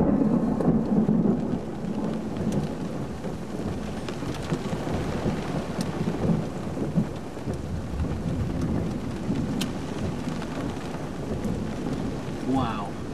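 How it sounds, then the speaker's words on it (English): Heavy rain pours down in a severe thunderstorm with hail, a dense continuous roar with thunder rumbling underneath, close and steady throughout, with no speech. "Rain is coming down outrageously super heavy."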